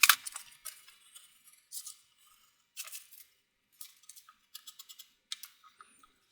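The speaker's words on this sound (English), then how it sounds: "rough cut it for the most part, and then cut it out with the round knife" A round knife slices leather for a shoulder holster in short, crisp, close cutting strokes and scrapes. The strokes come in irregular bursts separated by brief pauses.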